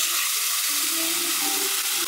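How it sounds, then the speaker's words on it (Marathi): Cooked dal pours into a hot pan of sautéed onion and ginger-garlic paste, giving a steady, close sizzle and wet frying hiss with soft sloshing, continuous for about two seconds with no talking. "आता आपण शिजलेली डाळ ह्याच्यामध्ये ट्रान्सफर करूया."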